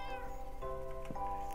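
A cat in the Minecraft video game meows two or three times in quick succession, clear and fairly quiet, with no talk.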